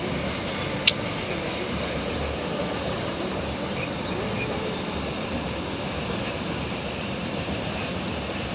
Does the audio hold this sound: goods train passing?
yes